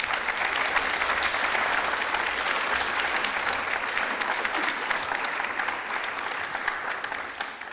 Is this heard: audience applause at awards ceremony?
yes